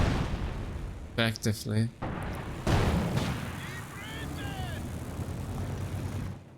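Artillery barrage in a strategy video game, a deep booming roar of firing and explosions rolling under a commentator's voice, with a burst of whistling and a lingering rumble.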